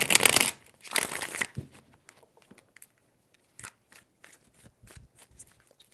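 A tarot deck shuffled up close in loud, crackling bursts, two strong riffles at the start, then softer scattered taps and card flicks trailing off in a quiet room.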